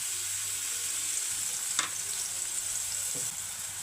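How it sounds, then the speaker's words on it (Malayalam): Chopped onion sizzles in hot oil in a pan for a simple egg thoran, a steady close hiss throughout with a couple of brief scrape or stir clicks, no voices. "നമുക്ക് കുറച്ച് സവാള അരിഞ്ഞിട്ട് കൊടുക്കുക, കുറച്ച് ഓയിൽ ഒഴിച്ച് കൊടുക്കുക,"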